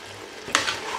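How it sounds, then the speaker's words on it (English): Chicken pieces for curry chicken sizzling in a pot while being stirred, a soft steady frying hiss broken by one sharp scraping stir of the spoon, close and quiet with no talk. "I'm just going to keep mixing this, making sure that all of the chicken gets cooked evenly."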